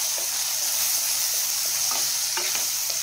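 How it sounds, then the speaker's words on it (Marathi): Onion and tomato sautéing in a pan: a steady close hiss of frying with intermittent stirring scrapes over the three seconds. "टोमॅटो आपण चांगला परतवून घेऊया."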